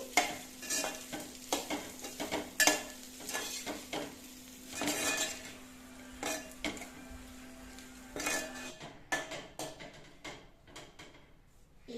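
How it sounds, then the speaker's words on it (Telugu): Garlic chili rice is stirred in a pan over a medium flame, bringing repeated spoon scrapes and clinks against metal over a low sizzle, steady and close, with a faint hum that drops out near the end. "ఇలా స్టవ్ మీడియం ఫ్లేమ్లో పెట్టాలి పెట్టి ఇలా కలుపుకోవాలి"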